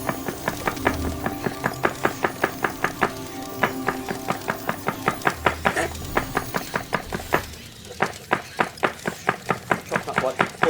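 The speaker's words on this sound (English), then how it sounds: "Chop up 4 cloves at once, but you can do one at a time." A knife chops through garlic cloves, four at a time, on a cutting board: a steady, rapid train of crisp, evenly spaced thuds running throughout with a brief pause partway, close and clear under a low background hum.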